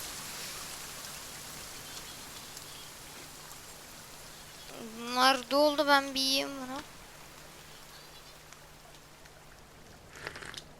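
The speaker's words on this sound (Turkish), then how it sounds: "Yalnız deli gibi yağmur yağıyor." Heavy rain in the video game The Forest hisses steadily throughout while someone speaks briefly partway through.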